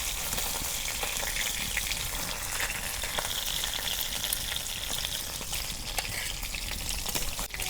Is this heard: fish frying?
yes